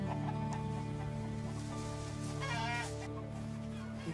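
Chickens clucking in a coop with sick birds, several hens giving soft overlapping clucks over a steady low hum, moderately close and fairly quiet, no talk heard.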